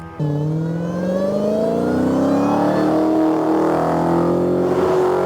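A 6.2-litre supercharged SRT Hemi V8 muscle car engine revs up and holds a deep, rising roar, loud and close, with no talking.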